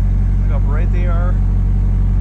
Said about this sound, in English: And then there's that active exhaust, that rumble.